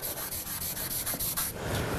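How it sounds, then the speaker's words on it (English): Soft, steady scratchy rubbing of a finger on charcoal on paper, close up, with a gentle pulsing rhythm for about two seconds. "I'm using my finger or the rag to soften that back."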